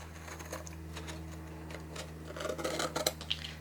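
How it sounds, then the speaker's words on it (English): Scissors cut into paper at the corners of a folio, a series of close, soft snipping and rustling sounds that grow busier and sharper toward the end, with no talk. "when you get to the corners, we're going to cut in to the inner score line and then cut out"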